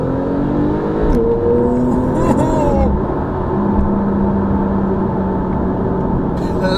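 A 2017 red Porsche 911 Carrera S in Sport Plus with manual shifting, heard from inside as the engine drones and pulls under acceleration, a steady loud hum with shifting tones and brief clicks, no talk over it.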